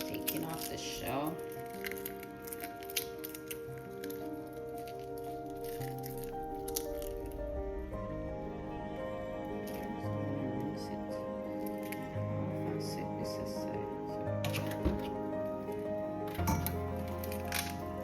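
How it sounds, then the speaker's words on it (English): The shell is peeled off a boiled egg for potato salad with soft, scattered crackles and small squishy crunches close by, while someone talks over the work. "I'm just taking off the shell."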